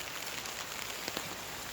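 Heavy rain falling on a street, a dense steady hiss of drops with a few sharper close splatters, no talk.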